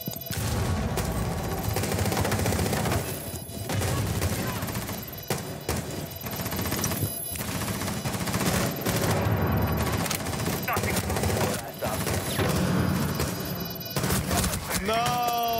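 Rapid gunfire bursts from a tactical shooter video game round with bomb planting, dense and continuous across the whole stretch, mixed with game effects while a player talks over it.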